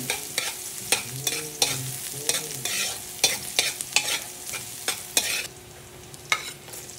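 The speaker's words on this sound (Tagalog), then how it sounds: "gisa na po tayo ng bawang. Daming bawang po ilalagay po natin." Lots of garlic sautéed in a pan for pansit: steady sizzling and frying under repeated sharp scrapes and clacks of a spatula stirring against the pan, close and lively, with no voices.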